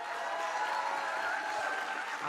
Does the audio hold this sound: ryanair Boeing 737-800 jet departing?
no